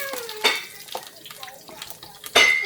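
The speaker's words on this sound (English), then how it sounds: "So I'm just gonna stir it in the pot and throw some onion in it." Onion being stirred into olive oil in a cooking pot at home, with a few sharp spoon-against-pot clatters and scrapes over a quiet kitchen background.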